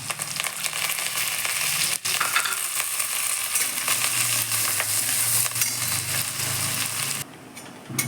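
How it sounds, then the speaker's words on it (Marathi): Onion frying in a pan for old-style tomato upma, a steady close sizzle with crackling and occasional stirring scrapes running throughout, easing slightly near the end. "याच्यामध्ये टाकूया आपण कांदा कांदा छान परतून घेऊ"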